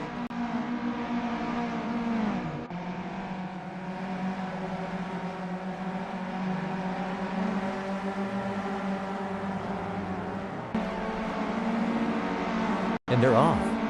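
VW Up Cup race cars accelerating away from a race start at Kyalami, a steady dense engine drone that rises in pitch with shifting tones, with a commentator talking over it.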